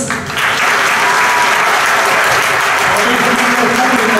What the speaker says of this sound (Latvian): koncertā joprojām skan skaļi aplausi